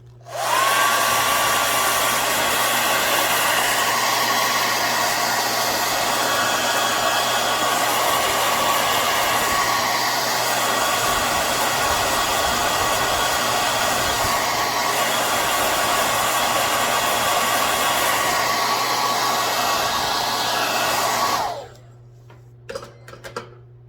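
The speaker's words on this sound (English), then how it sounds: "so I'm going to give it a quick blow dry." A hair dryer blows steadily at close range over wet paint on a lace-patterned surface, a loud continuous whoosh with a faint whine that runs for about twenty seconds before cutting off abruptly.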